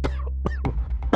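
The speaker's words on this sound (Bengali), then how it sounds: "কাশি তো থামছেই না পাপা" Several sharp coughs in quick succession from a man in a domestic drama scene, close and fairly loud, over a steady low hum.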